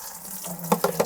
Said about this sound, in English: a couple of capfuls in, and then just fill it up with our water here.